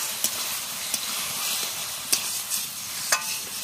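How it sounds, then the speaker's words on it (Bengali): Ground spice paste sizzling as it is sautéed and stirred in a hot pan, a steady frying hiss broken by a few sharp spatula clacks, close and moderately loud with no talking. "আর এখন ভালো করে কষিয়ে নেব।"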